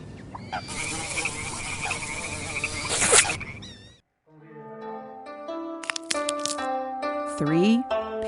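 Frogs croak in a dense, buzzing chorus for about four seconds, followed by a stretch of brief speech-like tones.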